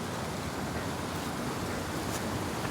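Water pours steadily out of a rocky cave opening in wintry Upper Mustang, a loud, continuous broadband rush with no pauses, close by and wind-like.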